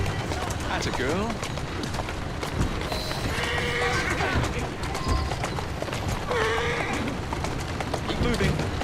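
A horse pulls a carriage through the streets in Assassin's Creed Syndicate, its hooves clopping steadily beneath nearly continuous speech and busy game sounds.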